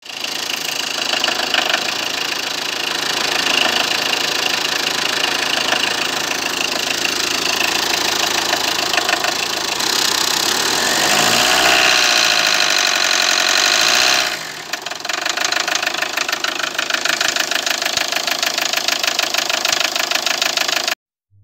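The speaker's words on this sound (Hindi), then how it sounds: "गाड़ी में जो नॉकिंग साउंड होता है cut cut cut cut cut cut ऐसा" Car engine with a faulty cam valve sensor idling nearby, a continuous loud mechanical clatter with rapid ticking knock, dipping briefly near the end before resuming, then cutting off abruptly.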